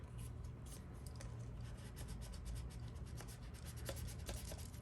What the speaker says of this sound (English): I take my bone folder and I just rub it on there and get those creases really crisp.